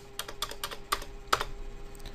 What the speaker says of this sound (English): And then press the enter key on the keyboard this time.